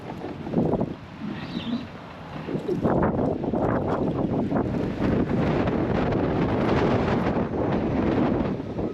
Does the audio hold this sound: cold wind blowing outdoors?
yes